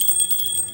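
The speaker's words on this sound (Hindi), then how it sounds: "ये घंटी की आवाज़," A small bell rings with a bright, sustained tone and rapid repeated strikes, steady and clear for under a second, with no voices.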